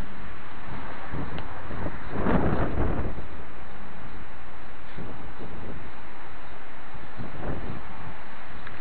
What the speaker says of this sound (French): Pourquoi il y a un deuxième coup de vent?